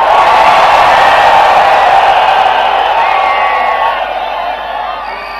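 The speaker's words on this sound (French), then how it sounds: "est-ce que je peux comprendre les cris de joie?" A large crowd at an outdoor church crusade in Mbouda erupts in loud joyful shouting, whoops and cheering, a dense sustained roar that eases off toward the end.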